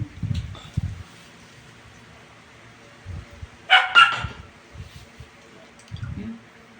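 Dogs bark in a short, loud burst of two or three close yaps near the middle, with scattered low thumps and soft household noise around it.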